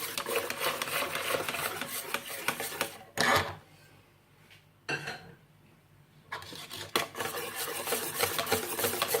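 Thick prune far breton batter, like a very dense crêpe batter, being mixed in a bowl, a busy rhythmic scraping and clattering with two short pauses, close and fairly loud, no talking.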